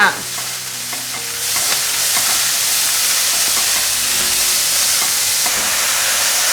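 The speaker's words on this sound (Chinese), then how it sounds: "现在放入金针菇，还有雪白菇，继续翻炒" Enoki and white beech mushrooms are stir-fried in a hot wok, giving a loud continuous sizzle and hiss with faint scraping of the stirring utensil, close by and without talking.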